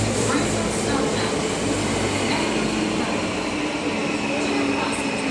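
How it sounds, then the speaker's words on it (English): A steady, loud rumble of a train arriving at a platform on the Ankara to Istanbul route, with muffled voices faintly audible beneath the continuous mechanical noise. "The next train service to Ankara is arriving at platform 1."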